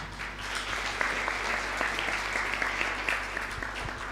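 Audience clapping at an awareness-week award ceremony, a sustained, dense round of applause at a steady level with no talk over it.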